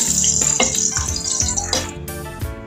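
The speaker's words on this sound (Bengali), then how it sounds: "এবার এই গরম মশলাটাকে আমি একটু ঢেলে নেব।" Whole garam masala, small cardamom and cloves, sizzles steadily in hot oil for khichuri, a close, continuous crackle with brief utensil clinks and stirring scrapes throughout.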